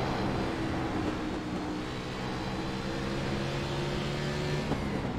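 A NASCAR race car engine in iRacing at Bristol holds a steady, high, buzzing drone at full throttle throughout, loud and continuous with no easing off.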